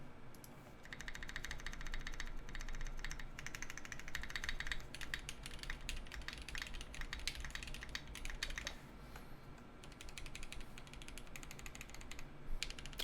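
Fast, continuous typing on a Perry60 prototype mechanical keyboard fitted with T1 switches, a close, clacky patter of keystrokes that runs without pause and has no talking over it.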